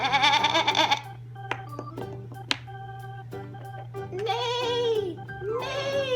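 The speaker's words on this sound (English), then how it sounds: "In comes the sheep. Bah," A Melissa and Doug farm animal sound puzzle plays a sheep's bleat: one wavering bleat, a few soft clicks, then two more loud, quivering bleats close up over a low electronic hum.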